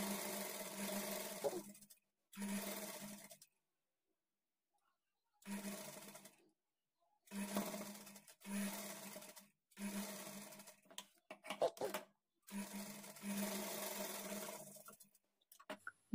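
A sewing machine stitches a lined blouse in repeated bursts of a few seconds each, separated by short silent pauses, with a steady mechanical hum during each run.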